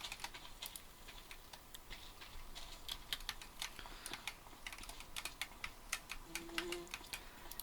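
Computer keyboard keys are pressed in quick irregular bursts while playing Farming Simulator 25, close, light clicking taps with brief pauses between flurries, no voices.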